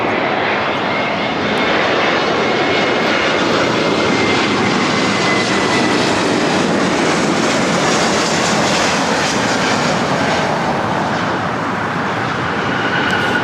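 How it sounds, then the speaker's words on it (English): Delta Airlines Airbus A321neo jet arriving at LAX from Atlanta, a loud, close, continuous engine roar with a faint high whine, sustained evenly throughout without talk. "This is Delta Airlines 687 coming in from Atlanta on an A321neo"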